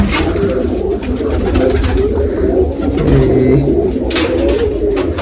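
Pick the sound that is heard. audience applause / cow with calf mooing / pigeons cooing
pigeons cooing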